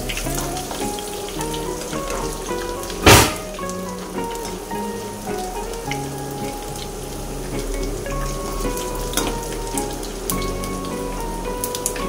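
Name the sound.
frying crushed garlic in a pan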